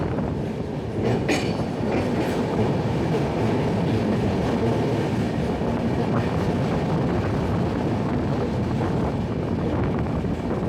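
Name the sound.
train moving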